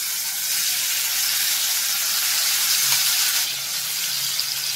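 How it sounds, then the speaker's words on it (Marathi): Prawns dropped into about two tablespoons of hot oil for a prawn pickle, giving a loud, continuous close sizzle that holds steady throughout with no voices. "तेल गरम झालेलं आहे। आता आपण यात जे घालणार आहोत हे प्रॉन्स।"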